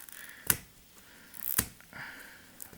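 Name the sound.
cutting plastic foil wrap of a comic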